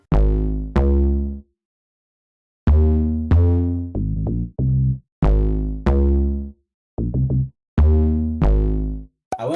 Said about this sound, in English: Simple bass. I layered it with another bass.